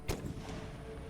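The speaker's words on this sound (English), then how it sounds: "I want to keep firing on the enemy cannons and break them down" A single artillery cannon blast in Empire Total War, a deep boom near the start that decays into a rumbling tail with low battlefield noise behind it.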